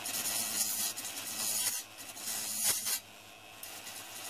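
A sanding pad attachment rounding off freshly hacksawed metal edges on an IKEA-part hobo stove, giving a steady close abrasive rubbing hiss with brief dips in between passes, no voices.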